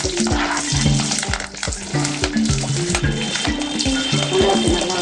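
Spices crackle and sizzle loudly in hot oil in a pan for a Tamil ladies finger spicy gravy, a close, dense, continuous frying hiss with sharp pops and stirring scrapes, no talk.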